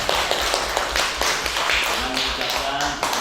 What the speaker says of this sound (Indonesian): Tepuk tangan untuk Bu Devi ya.